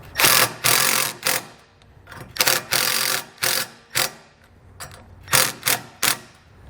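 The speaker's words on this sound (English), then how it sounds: "I'm just going to take some self-tapping screws, kind of get these started, and then run them down until they're snug" Self-tapping screws driven into a base plate bracket while installing a Roadmaster battery charge line kit on a towed vehicle, heard as a string of short, loud, whirring power-driver bursts separated by brief pauses, close up with no talk.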